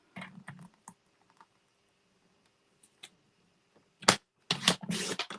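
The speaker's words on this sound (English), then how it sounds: "So let me cut it at the 1 inch mark." Material being cut at the one inch mark during a craft project, heard as a few sharp clipping snips close to the mic, a quiet pause, then a louder burst of cutting strokes near the end.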